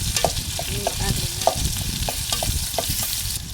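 Chickpeas roast in a pan with turmeric and salt, with repeated close scraping and rattling stirs over a soft, steady frying hiss.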